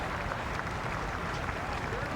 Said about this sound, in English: Getting polite applause from the stewards' enclosure, respect for their work.